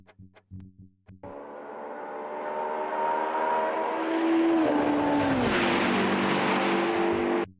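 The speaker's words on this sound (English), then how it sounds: "Remove that effect completely. That whoosh sound." A car racing past the camera with a whoosh effect layered over its engine, a rising tonal roar that swells, sweeps down in pitch as it passes and cuts off abruptly, preceded by a few short thumps.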